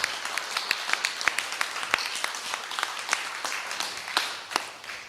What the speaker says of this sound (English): let's just give Luke a round of applause